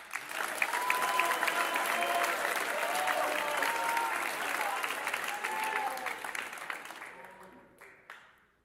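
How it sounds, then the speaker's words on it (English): A seated audience at a sales talk gives a sustained round of applause for Mark, a broad wash of clapping over faint murmurs that holds steady for several seconds before tapering off. "Can we have a round of applause just because Mark's awesome?"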